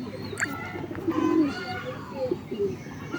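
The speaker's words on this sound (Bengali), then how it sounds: "দেখো সব পায়রা লফটের মধ্যে ঢুকে গিয়েছে" Pigeons coo nearby inside a loft in low, soft, burbling calls, with a brief higher chirp and faint rustling around them.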